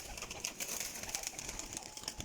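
Racing pigeons being shown for sale, with soft bird calls and cooing heard steadily at close range over a dense, noisy background, with no one speaking.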